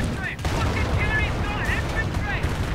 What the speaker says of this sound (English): Artillery going in again